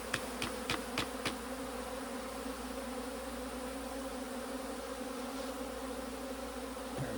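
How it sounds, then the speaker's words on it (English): Honeybees shaken off a hive board buzz in a steady, close swarm hum, with a few sharp knocks or taps at the start and no talking. "We can shake actually all the bees in, just in case the queen is here"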